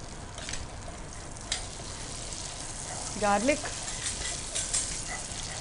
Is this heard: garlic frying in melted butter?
yes